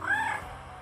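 A cat stuck in a tree gives a single short, fairly faint meow that fades quickly, heard alone.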